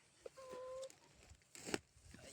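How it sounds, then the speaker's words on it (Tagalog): Backyard chickens give a few soft, scattered clucks and short calls close by outdoors, faint against a low ambient background with an odd thin tone briefly present. "Ito ang mga manok ko"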